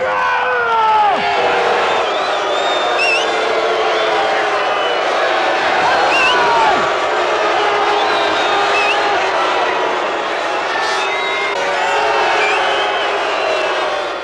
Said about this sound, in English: Big cheer for Chuck Noll